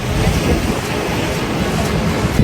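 Waves roll steadily onto a Mediterranean beach at Antalya, a constant broadband wash with wind buffeting the microphone and a small bump near the end.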